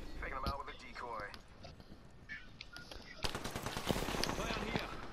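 Bursts of rapid gunfire in the video game Apex Legends, short automatic volleys growing louder and denser toward the end, mixed under a player talking.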